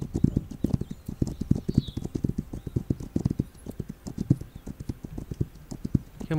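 A horse gallops in the video game This Land Is My Land, with a steady rapid run of clip-clop hoof beats at moderate level and no other sounds.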